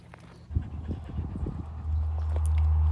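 Puppies panting and whimpering outdoors during a training session, a burst of quick rhythmic breaths lasting about a second, followed by a low steady rumble of background noise.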